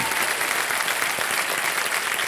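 Studio audience at the KBC television quiz show applauding a contestant, a steady, bright wash of many hands clapping at once that holds evenly throughout without any talk.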